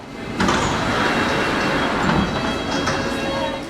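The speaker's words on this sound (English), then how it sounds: "The underground trains arrive on the platforms here roughly once a minute during rush hour." A loud, steady rumble of a London Underground train pulling into a station platform, with rattling and clanking over a constant roar.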